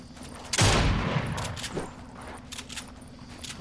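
Gunfire in a Fortnite squads match: a loud burst of shots erupts, followed by scattered lighter pops and game noise at lower volume, with no voices.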